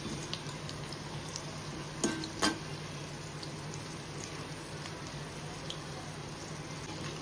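Corn bhaji fritters fry in oil on a low flame with a faint, steady hiss and bubbling, broken by a couple of brief clicks near the middle.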